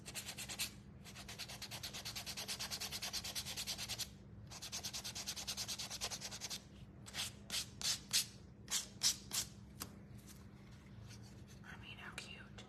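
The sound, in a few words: hand sanding wooden spindle bird house base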